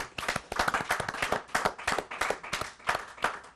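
Sparse, rhythmic clapping from a small group on a Chelsea fan podcast, distinct individual claps repeating steadily and fairly close, with no voices over them.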